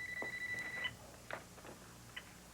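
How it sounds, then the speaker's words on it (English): A telephone rings in a home in short electronic beeping bursts, fairly faint, with no speech over it. "This is my phone."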